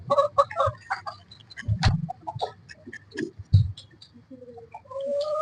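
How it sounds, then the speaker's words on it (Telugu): A fighting rooster on a small chicken farm gives short clucks and scratchy calls in scattered bursts, close and moderately loud, with a few thumps and ticks between them. "ఈ పుంజు ఉంది కదా, ఇదేమో పందెం కోడి."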